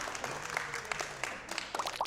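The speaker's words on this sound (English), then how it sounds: "let's hear another hand applause for the young" A small group applauds a young performer at a resort, a soft scattered patter of clapping hands that is fairly faint, with light chatter and a few voices underneath.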